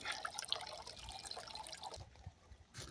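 Water from a drip irrigation line trickles into a backyard bird fountain, a soft, faint, steady dripping and running close by with no voices.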